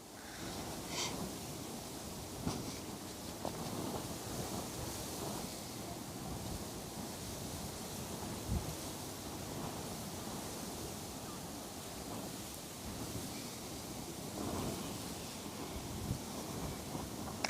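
Wind gusts across an open shoreline along the Westerschelde estuary, a steady broadband rush and buffeting against the microphone, with surges rising and falling throughout and no talk.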